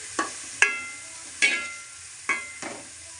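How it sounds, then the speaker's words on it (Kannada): Onions fry in a pan for vegetable fried rice, with four or five sharp scraping stirs of a spatula spaced about a second apart over a faint background sizzle. "ಹಸಿ ಸ್ಮೆಲ್ ಹೋಗೋವರೆಗೂ ಸ್ವಲ್ಪ ಫ್ರೈ ಮಾಡ್ಕೊಳ್ಳಿ"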